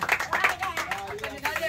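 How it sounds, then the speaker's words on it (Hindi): Hands clapping in a street balloon game, a quick run of claps with children's voices and crowd noise mixed in, fairly close. "वेरी गुड, ताली बजाएंगे।"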